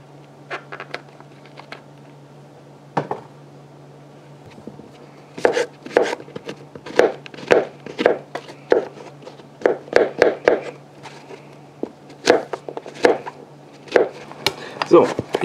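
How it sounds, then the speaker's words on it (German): Mushrooms chopped into small pieces with a knife on a board, a series of crisp, irregular close taps that grow faster and denser, with a low steady hum behind. "die bisschen kleineren sortiere ich aus, schneide ein bisschen klein, zerhexe sie zu einer Paste"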